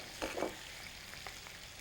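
Shrimp, scallops and swordfish saute in hot olive oil in a pan, giving a faint, steady sizzle with a couple of brief louder crackling bursts near the start.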